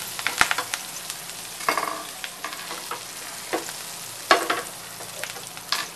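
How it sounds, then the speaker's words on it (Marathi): Asafoetida, finely chopped garlic and curry leaves hit hot oil in a pan, giving a steady crackling sizzle broken by sharper pops and spits, close and fairly loud, with no talking. "तेल चांगलं गरम झालेलं आहे. त्याच्यामध्ये मी थोडंसं हिंग टाकते, लसूण बारीक चिरलेला आणि थोडा कढीपत्ता टाकते."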